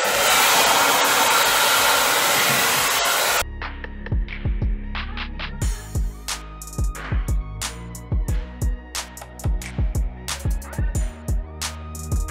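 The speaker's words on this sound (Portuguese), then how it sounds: "Vou usar o meu secador da Taif pra secar" A Taiff hair dryer drying curly hair blows with a loud, steady broadband roar that cuts off abruptly partway through, followed by quieter clattering and scraping sounds.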